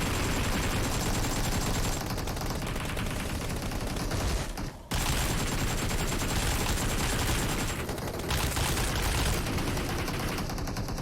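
Rapid gunfire in a Fortnite battle, dense bursts of automatic shots firing continuously and loudly with a brief gap midway, then resuming without pause.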